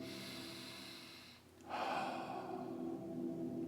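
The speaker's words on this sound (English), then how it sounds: "Just take a couple of deep breaths like this." During a guided calming exercise, a person draws one slow, deep belly breath close to the microphone. A short hush gives way to a long, airy breath lasting about two seconds over a faint steady hum.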